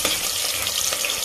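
Chopped onions frying in hot oil inside a pressure cooker for chicken curry, a dense, steady close sizzle with no talking.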